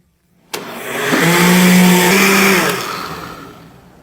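A blender whirs up juice with condensed milk, kicking on abruptly, holding a loud steady motor drone for about two seconds, then winding down and fading out.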